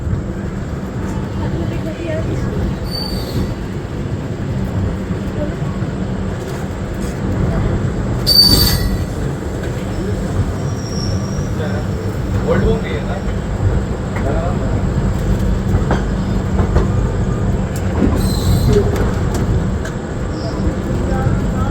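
A passenger train on the Moradabad to Rishikesh line rumbling steadily along the rails, with occasional high metallic wheel squeals and voices talking inside the carriage over the constant low roar.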